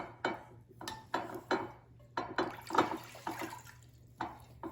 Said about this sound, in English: So I'm just going to add some water to the bottom, about 2 cups.